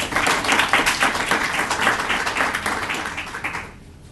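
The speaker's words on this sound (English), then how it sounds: "I want you to give him a round of applause as he comes in his own ways to greet you all today" An audience at a micro-entrepreneur graduation ceremony applauds steadily as a speaker comes up, dense clapping that is loud and close, holding for about three and a half seconds before it cuts off.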